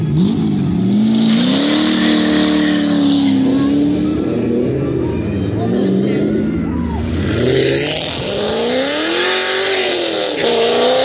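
A car doing burnouts at an outdoor car show, its engine revving hard in repeated rising and falling surges while the tires squeal and scream, loud and close throughout.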